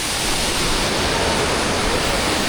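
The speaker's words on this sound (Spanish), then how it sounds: "Se puede sentir la fuerza del agua viniendo aquí de la montaña." Roaring waterfall in the wild at Paraty, Brazil, with water pouring down from the mountain as a loud, unbroken broadband rush heard up close with no pauses.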